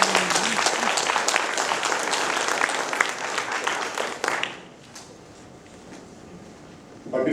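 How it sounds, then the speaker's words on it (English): An audience at an international Rotary convention in Seoul applauds three panel experts after a session on agriculture and water in Turkana, Kenya, with dense clapping that holds for about four seconds, then drops abruptly to quiet room tone. "I think they all deserve a big round of applause."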